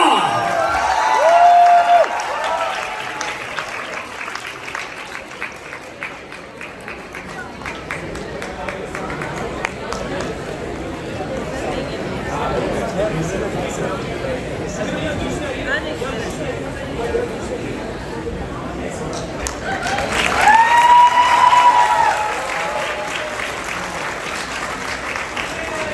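Applause and some cheering from a student audience at a Bahria University theater event for Ali Gul Malla, a sustained crowd wash that dips in the middle and swells again, with brief voices and murmuring mixed in.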